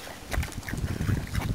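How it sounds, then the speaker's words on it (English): Ducks quack in a few short bursts while competing over food near the water, with a low rumble underneath. "Oh, that duck took it all."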